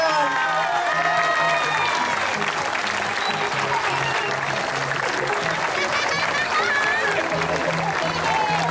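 Loud sustained applause and cheering from a crowd welcoming Sebastián home to his town, dense clapping with shouts and whistles, low voices and a rhythmic musical tone running underneath throughout.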